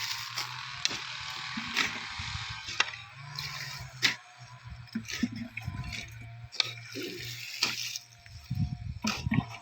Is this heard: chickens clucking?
no